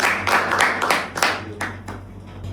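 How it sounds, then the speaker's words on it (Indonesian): An audience at an Indonesian podcast recording bursts into a short round of clapping, sharp irregular claps that thin out and fade over a couple of seconds. "tepuk tangan lagi teman-teman"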